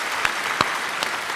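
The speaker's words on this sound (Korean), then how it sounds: "우리 다시 한번 감사의 박수 드립니다." Steady applause from a church congregation at a Sunday service, with a few sharper claps standing out, continuing evenly throughout.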